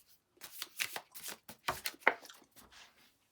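A deck of cards for the Dungeons & Dragons board game being shuffled by hand at close range, several quick papery bursts of riffling separated by short pauses, with no one talking.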